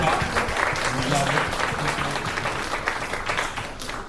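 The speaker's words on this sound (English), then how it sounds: "can we get one more round of applause for our lab assistants, please?" Crowd at an evening coding event applauding its lab assistants, dense continuous clapping filling the space, with a voice talking underneath.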